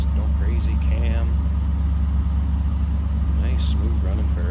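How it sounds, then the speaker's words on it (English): A 1959 Ford Fairlane 500 Club Victoria hardtop with a stock exhaust and mild cam idles smoothly in a low, steady rumble, while someone talks over it nearby. "Nice smooth running Fairlane."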